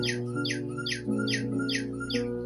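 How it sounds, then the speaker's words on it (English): A cuckoo clock calls repeatedly, its two-note chirps coming in a steady rhythm over a sustained tonal hum, fairly close and clear. "It's a cuckoo clock."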